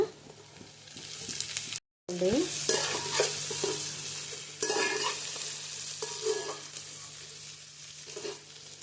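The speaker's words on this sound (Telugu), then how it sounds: "క్యారెట్ కాస్త వేగాలండి ఆయిల్లో." Sliced carrot and capsicum fry in oil for prawn fried rice, a continuous close sizzle punctuated by scraping stirs of a spoon against the pan, with one brief dropout near the start and no talking.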